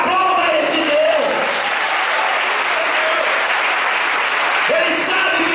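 A church congregation claps loudly and continuously, a dense roar of applause under a faint voice.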